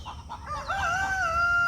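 Garden chickens clucking in a few short bursts, then a rooster crows loudly and close with a long, wavering call.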